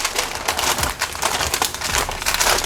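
Paper is folded with a steady close crinkling and crackling, part of wrapping a mosaic chocolate cake.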